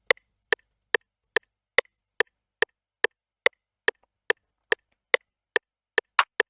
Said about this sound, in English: The next thing I added was this Perc sound, which goes at the end of every 4 bars.